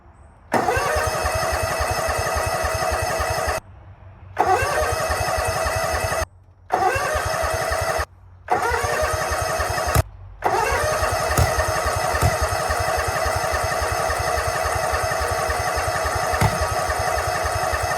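An abandoned Husqvarna engine is cranked again and again without catching, five separate bursts of rapid chugging up close, with short silent gaps between them.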